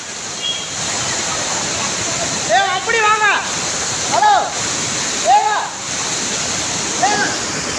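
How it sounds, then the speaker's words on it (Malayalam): Rushing roar of Courtallam waterfall in Tenkasi, swollen by a sudden flash flood surge in rain, a loud steady broadband wash throughout, with shouting voices breaking in over it several times. "തമിഴ്നാട് തെങ്കാശി കുറ്റാലത്താണ് മഴയത്ത് പെട്ടെന്ന് ഒഴുക്കു കൂടിയത്"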